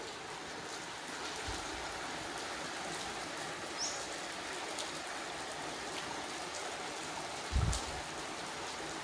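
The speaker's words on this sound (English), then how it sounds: "the sound of running water." A stream on a walking trail in the Blue Mountains, Australia, flows in a continuous, even hiss, moderately faint, with a couple of brief low bumps and no voices.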